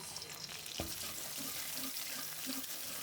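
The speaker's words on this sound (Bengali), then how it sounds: "সিমলা সরিষার তেল দিয়ে শাক ভাজি করবেন রসুন পেঁয়াজ" Greens with garlic and chili fry in hot mustard oil, giving a steady close sizzle with a sharp clatter early on and soft bubbling pops through the rest.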